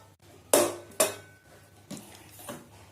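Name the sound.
pressure cooker lid being opened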